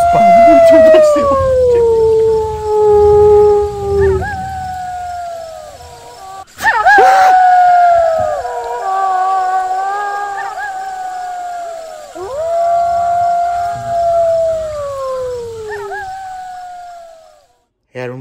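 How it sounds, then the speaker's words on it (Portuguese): A long, wavering wolf-like howl, played as a werewolf, rising and falling through several drawn-out calls, loud and near, with a brief sharp noise midway and a short gap of quiet. "Que é esse barulho? Eu acho que é um lobisomem."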